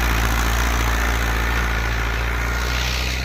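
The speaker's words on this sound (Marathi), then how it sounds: "ते बा सरकी किती भारी काढतो तो ट्रॅक्टरनी" A tractor engine runs in a farm field while the tractor uproots cotton stalks, producing a loud, steady, close-up drone with no break.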